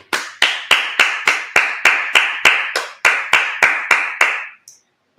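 About sixteen sharp, evenly spaced hand claps from a congregation at a Sabbath service, crisp and close in a steady rhythm, briefly pausing before stopping, then silence.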